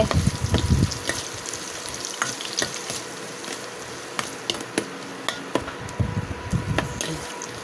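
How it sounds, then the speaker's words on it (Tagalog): Ingredients sautéing in a pan give an ongoing sizzle, with busy clattering stirs at the start and end and quicker utensil taps against the pan in between, all close up. "Igisa po natin."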